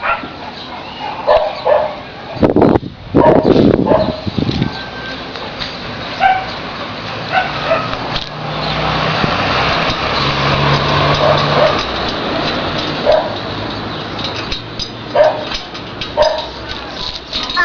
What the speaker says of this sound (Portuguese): Os cachorros estão tudo loucos.